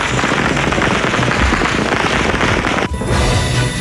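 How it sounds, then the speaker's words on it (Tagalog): Gunfire recorded during a strike on a hacienda crackles in dense, rapid bursts of shots, loud and chaotic, heard in rough amateur news footage with no clear voices. "Pero tuloy ang pagkakaputok ng baril."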